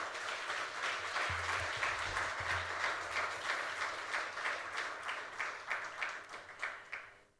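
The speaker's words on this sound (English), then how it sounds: "I think our jury panel requires a huge round of applause" Audience at an awards ceremony applauds the jury panel, a steady crowd of clapping that holds evenly and then tapers off toward the end.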